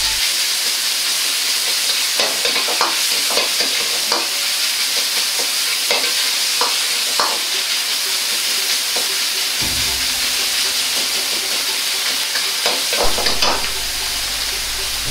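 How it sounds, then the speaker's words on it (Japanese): Minced pork frying in oil in a Chinese wok for mapo tofu, a steady loud sizzle broken by repeated scraping stirs of the spatula, with a fresh burst of hissing near the end as more oil goes in. "ひき肉がしっかり炒め、色が白くなってきたら、さらに大さじ1の油を足していき、肉がカリカリに揚がったような状態にしていきます。"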